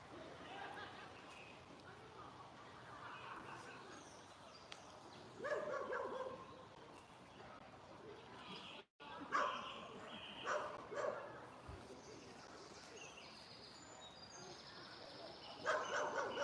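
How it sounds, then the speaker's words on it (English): Dogs bark in a few scattered, fairly distant bursts by a river where anglers are fishing, mixed with birdsong and people chattering in the background. "Dogs are wondering what's going on."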